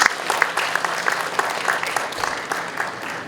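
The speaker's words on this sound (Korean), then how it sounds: "다시 한번 인사 박수를 부탁드립니다" Audience at a forum on subcontractor cooperation applauds, a steady patter of many hands clapping in a room, moderately loud and continuous for a few seconds.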